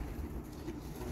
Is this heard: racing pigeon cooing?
yes